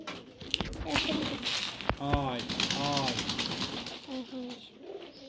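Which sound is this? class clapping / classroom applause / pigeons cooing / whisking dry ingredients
pigeons cooing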